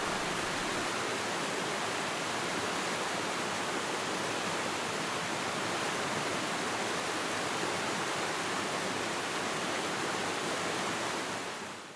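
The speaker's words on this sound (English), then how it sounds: "As we walked down the trail, we saw this rushing water." A creek near Welton Falls rushes along in a steady, loud, broadband roar of flowing water that holds unbroken and close for the whole stretch, with no voices.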